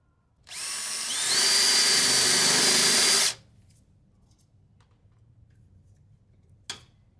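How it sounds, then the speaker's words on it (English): A power drill with a spot weld bit whines loudly through the car-body metal of a wrecked Lexus IS300 for about three seconds, pitch rising as it bites in, then stops; a faint click follows near the end. "start with the center punch, the spot weld drill bit, and a drill"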